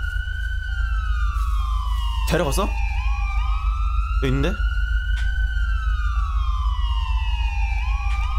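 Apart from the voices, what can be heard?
police car siren in video game GTA V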